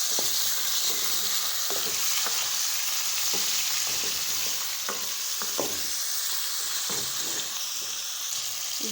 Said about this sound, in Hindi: चिकन को हमने 2-3 मिनट फ्राई कर लिया